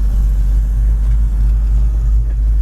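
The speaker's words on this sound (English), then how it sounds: "Car seems to be idling fine now." A 1967 Shelby GT350 tribute fastback idles with a deep, steady low rumble, close and even throughout with no revving or talk.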